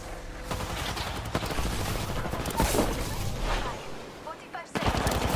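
Dense gunfire in a multiplayer shooter video game, continuous bursts and impacts filling the whole stretch, loud and close, with game voice lines and talk mixed in.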